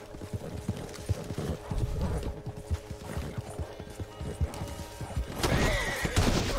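A horse's hooves clip-clop in a steady trot in Red Dead Redemption 2, close and continuous, with a louder rush of movement near the end.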